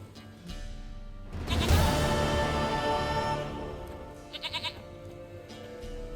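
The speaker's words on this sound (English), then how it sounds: "Goat of mine, dearest, sweetest goat." Goat in The Witcher 3 video game lets out one loud, drawn-out bleat lasting a couple of seconds, then a few faint, quick trailing bleats, heard alone.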